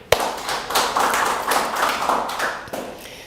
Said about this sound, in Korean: 나에게 영광의 박수로.